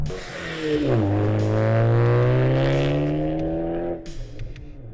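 An Audi A4 B8 revs up and holds a loud, throaty exhaust drone for a few seconds before dropping back down, close by with no talking.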